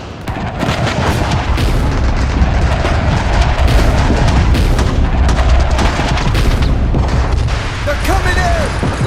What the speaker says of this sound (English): Friendly artillery incoming!